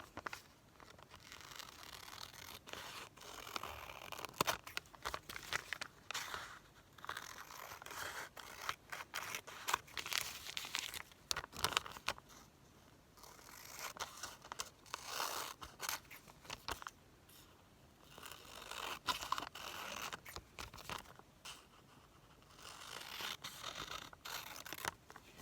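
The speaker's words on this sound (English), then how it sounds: "I'm going to cut it out" Scissors cut through recycled wrapping paper along a drawn star template: a long run of quiet, close snips and crisp paper rustles, coming in irregular clusters with brief pauses.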